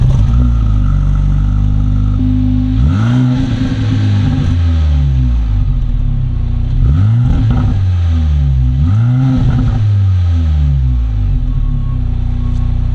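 A 2023 Mercedes SL43 four-cylinder engine, started lukewarm, idles loud and close with a rough, throbbing note and several quick revs rising and falling, with no talking.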